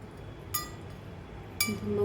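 Hardened jaggery syrup dropped into a plate of water while making tilgul laddu gives two faint, sharp clinks about a second apart over a quiet room hum, with no speech.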